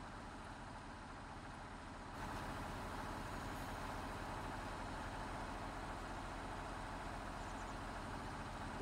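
An old 40-horsepower tractor in Farming Simulator 19 labours while sowing soybeans, its engine a steady low rumbling drone that steps up in loudness after the first couple of seconds and then holds constant.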